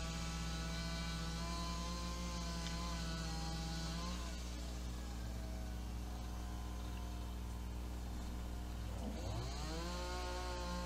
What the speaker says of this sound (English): You hear the chainsaw?